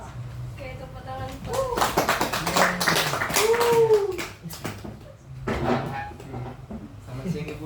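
Students in a classroom clap their hands in a ragged burst of sharp claps and taps, mixed with voices talking and calling out over it.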